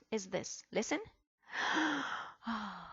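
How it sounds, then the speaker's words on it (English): A person gives two breathy, drawn-out gasps, sharp inhaled rushes of air heard close and clear. A short spoken phrase comes just before them. "This is the sound of a gasp."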